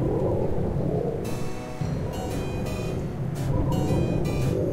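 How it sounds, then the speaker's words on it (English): Thunder rumbles in the Wallace and Gromit The Last Resort video game, a long, loud, rolling roar under a steady rain-like hiss with no talking. "was that the earth-shaking roar of thunder?"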